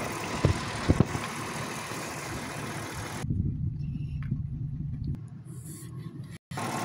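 A BMW naturally aspirated petrol V8 idles close by with a steady, rough low rumble and broadband engine noise that thins out and drops away briefly near the end.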